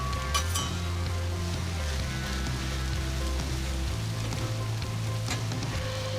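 Sliced onions sizzle on a Blackstone flat-top griddle with a steady soft hiss, while a spatula scrapes and clinks now and then as the pieces are broken up.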